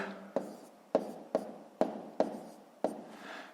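A pen writes numbers by hand on paper while working a sixth-grade multiplication problem: six sharp, close tapping strokes at uneven intervals, each fading quickly, with no voice.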